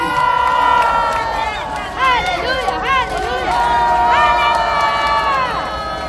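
A large crowd at a Korean prayer rally cheers and shouts in welcome for the youth segment, a loud, sustained roar with rising whoops and calls layered throughout.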